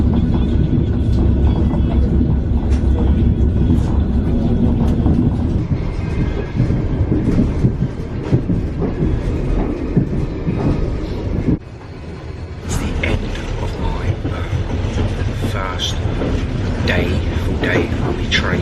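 A Trans-Siberian Railway train rumbles along the tracks with a steady, loud low roar and intermittent clicks and clatter from the wheels, and faint voices can be heard inside the carriage.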